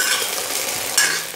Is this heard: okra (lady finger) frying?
yes